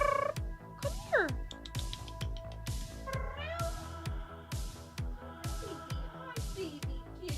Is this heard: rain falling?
no